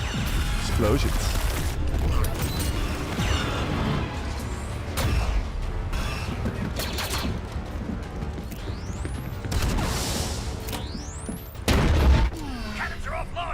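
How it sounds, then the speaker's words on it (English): Dense, roaring battle noise from the animated series The Bad Batch, with heavy booms and rapid crackling blasts, loud and continuous, with short whooshing sweeps and a deep thud near the end. "Explosions."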